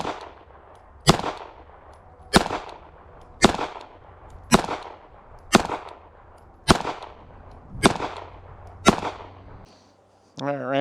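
Ten pistol shots fired at a USPSA target 25 yards downrange, a red dot optic mounted, each a sharp crack with a short ringing tail, spaced evenly about a second apart at moderate distance.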